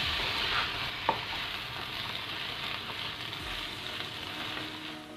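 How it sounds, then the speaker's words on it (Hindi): Korean fried rice being stir-fried and mixed in a pan makes a soft, steady sizzle with light scraping, close and moderately quiet, with one small clink early on and no talk. "1 teaspoon green chilli sauce, 1 teaspoon vinegar और इसे अच्छे से मिक्स करें।"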